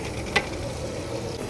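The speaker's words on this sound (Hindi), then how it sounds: "प्याज को जी हल्का सुनहरा होने तक भून लेंगे जी।" Onions fry in a pan until lightly golden, giving a steady, soft sizzle throughout with a single small click of a utensil partway through.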